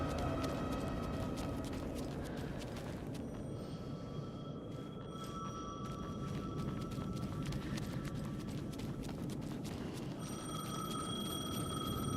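Telephone ringing in the Alan Wake 2 video game, a repeated electronic trill in short bursts over a steady bed of ambient noise and distant rumble, with no voices.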